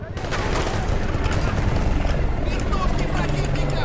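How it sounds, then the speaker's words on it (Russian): Enemy helicopters in the Battlefield 2 video game, a loud steady rotor roar mixed with dense gunfire crackle throughout, with a game voice calling out over the din. "Вертушки противника! Десант противника!"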